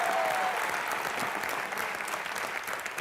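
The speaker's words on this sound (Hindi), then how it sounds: "जोरदार तालियां मिस्टर सुनील गावस्कर के लिए।" Loud, dense applause from a studio audience at a comedy show welcoming a cricket legend, sustained steadily for the full three seconds with no voices over it.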